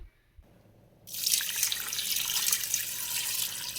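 A mug of water pours into a mutton curry mix of meat, turmeric and salt, a steady close splashing stream starting after a brief pause and running on evenly.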